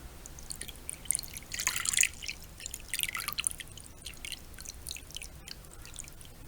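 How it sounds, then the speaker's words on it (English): Water is poured into a silver scrying bowl bearing an image of Pan, making bright splashing and dripping sounds in a few uneven bursts, then trailing off into scattered drips. "we're going to add some water to our scrying bowl now"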